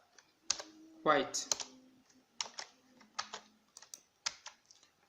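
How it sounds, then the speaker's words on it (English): Clicks of keys typed on a computer keyboard while entering a hexadecimal color code, short irregular bursts of taps, close and fairly quiet, with a person talking over the start. "I can type in the hexadecimal color"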